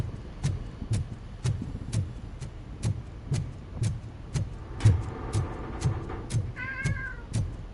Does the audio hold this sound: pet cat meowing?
yes